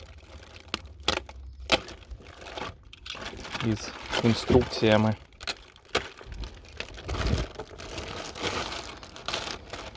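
Crinkling plastic packets from a solar power station kit rustle and crackle in irregular bursts, close by, under someone talking.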